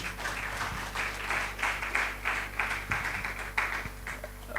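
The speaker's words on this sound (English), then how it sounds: "So a round of applause for him again." Steady applause from a conference audience, moderately quiet and continuous, with a low constant hum underneath.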